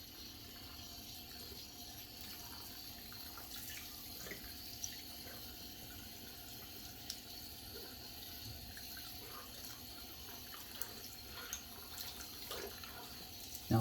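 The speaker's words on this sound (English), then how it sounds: "Gotta rinse out my soap bowl" Tap water runs steadily while a shaving soap lathering bowl is rinsed at a sink, a soft continuous hiss with faint splashes and drips close by.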